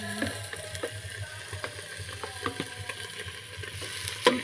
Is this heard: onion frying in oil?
yes